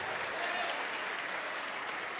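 A church congregation claps during a worship service, a faint, steady wash of many hands heard from a distance with no voices over it.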